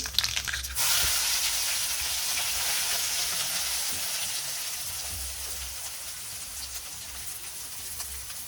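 A sudden loud crackle as mustard seeds hit hot oil, settling into a steady, fairly loud sizzle that fades slightly over time.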